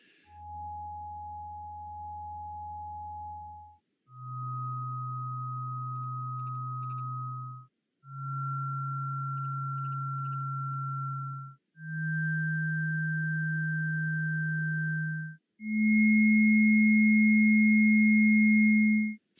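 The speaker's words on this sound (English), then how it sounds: "Yeah, there'll be 5 tones." Five steady electronic sine tones played one after another, each about three seconds long with brief gaps, stepping higher in pitch and growing louder, with a low hum under each tone and no voices.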